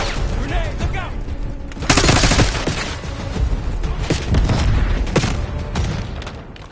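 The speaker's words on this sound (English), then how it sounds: "Grenade, look out!" Bursts of rapid gunfire and a grenade blast crackle through a Call of Duty: Black Ops 6 campaign battle, loud and dense, with shouted voices mixed into the chaotic combat.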